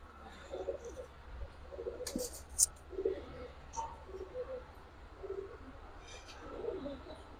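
Giribaz pigeons, including a black-necked hen, coo in a loft in repeated soft, low bursts spaced every second or so, close and clear over a steady low hum.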